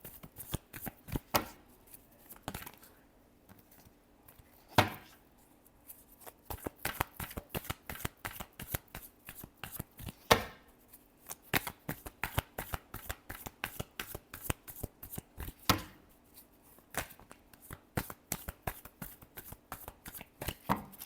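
Tarot cards are shuffled by hand over and over, a close, continuous run of crisp slaps and riffling flutters in an uneven rhythm, with no voices.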